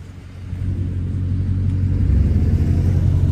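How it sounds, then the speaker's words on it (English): A car engine rumbles loud and close, revving steadily on wet ground during an attempted burnout, with no voices. "Do a burnout."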